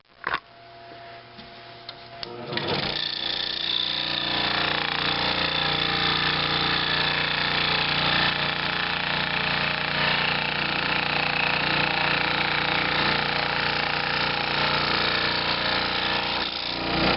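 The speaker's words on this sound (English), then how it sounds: "I still have to cut some holes in it for the clamps to go through" A power tool cuts holes for clamps through the base of a homemade third-hand soldering helper, starting after a few seconds of handling knocks and then grinding steadily and loudly at close range for the rest of the clip.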